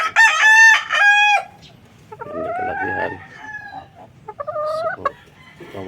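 Hens and a rooster kept for breeding sit close by: a loud crow opens, followed by clucking and shorter crowing calls, with no speech.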